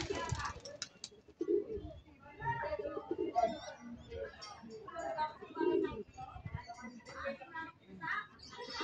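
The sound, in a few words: checkered stock pigeon cooing in breeder loft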